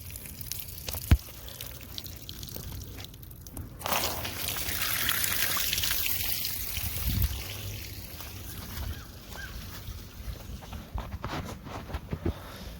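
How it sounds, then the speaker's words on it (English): Hose water runs through a boat outboard motor's lower unit during an impeller replacement, a steady hissing rush that swells in the middle and then settles, with scattered drips and knocks nearby. "Now I'm going to hook the water up and we're going to see what happens."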